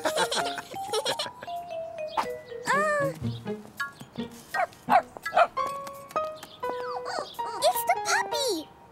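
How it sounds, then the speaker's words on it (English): A puppy barks in a children's cartoon, short yaps scattered among bright music and voices talking. "It's the puppy!"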